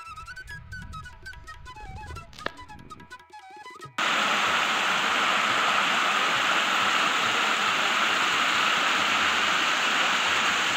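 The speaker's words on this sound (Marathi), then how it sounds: "नर्मदा मैयाचा खळखळत वाहणारा प्रवाह आपली सतत सोबत करत आहे।" Narmada river water rushing and gurgling in a steady, loud broadband roar that begins abruptly partway through, after a quieter stretch with faint tonal background sounds; continuous and close, with no talking.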